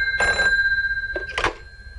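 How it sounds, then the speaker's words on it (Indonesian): A telephone rings in two bursts, the classic bell-style double ring sounding clearly and fairly close in an otherwise quiet room. "ketika telepon berbunyi"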